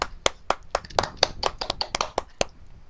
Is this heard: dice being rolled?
no